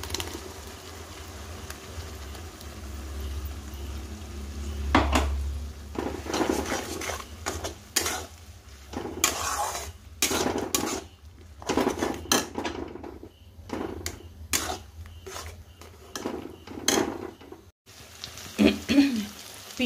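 A metal spatula scrapes and clinks against a pan as onions fry and ginger-garlic paste is stirred in, giving repeated sharp knocks over a faint, low sizzle.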